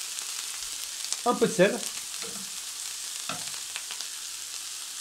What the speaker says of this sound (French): on met ça dans l'huile, sur la poêle